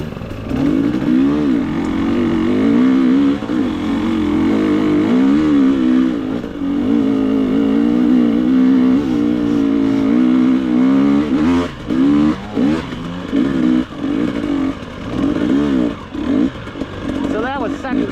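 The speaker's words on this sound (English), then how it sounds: "So that was second gear on the GasGas, and she'll lug" A GasGas EX250 dirt bike revs and pulls in second gear, its engine note rising and falling loudly and close with choppy throttle blips near the end.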